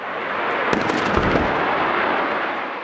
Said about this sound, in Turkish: Top atışı yapıldı.